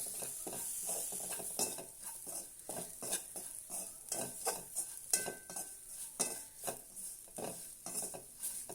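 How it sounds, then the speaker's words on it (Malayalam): Onions sauté with coriander powder and garam masala in a pan: a soft sizzle broken by repeated scraping and tapping strokes of a spoon against the pan. "1 സ്പൂൺ മല്ലിപ്പൊടി, 1 സ്പൂൺ ഗരം മസാല. ഇത്രയും കൂടെ ഇട്ട് നന്നായിട്ടൊന്ന് വഴറ്റി കൊടുക്കാം."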